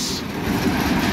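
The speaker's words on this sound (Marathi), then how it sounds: "ट्रेन आता चालू झाली." A passenger train starting to move, giving a steady low rumble of wheels and carriage with a continuous, even loudness and no talking over it.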